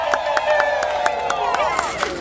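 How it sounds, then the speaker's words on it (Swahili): A church crowd welcoming Sacred Heart in Voi, with loud, sustained high-pitched ululation from many voices over rhythmic clapping and cheering, close and energetic throughout. "Shangwe na vigelegele kwa Bwana wetu Yesu Kristo."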